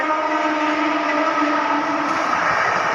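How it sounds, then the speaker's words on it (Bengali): A Rajdhani Express train rumbles past a railway station near Tarakeswar steadily and loudly, a continuous heavy roar of wheels and carriages with no pauses. "দেখুন কিন্তু রেল স্টেশন ট্রেন যাচ্ছে"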